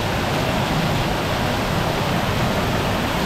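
Heavy downpour heard from inside Taal Basilica, a large Roman Catholic church in Taal, Batangas, forming a steady, dense wash of noise with no break, loud and continuous with no talking.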